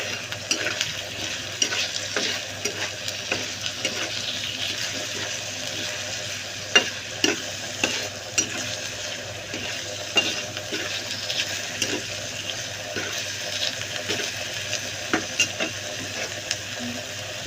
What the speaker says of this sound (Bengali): চিকেনটাকে এখন আমি একটু ভালো করে ভেজে নিচ্ছি।